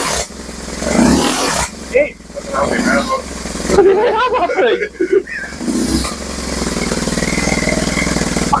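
A BMW 1150 GS motorcycle with rebuilt clutch work and baffles refitted in the exhaust runs at a steady, fairly quiet idle, a low continuous rumble under a man's close speech.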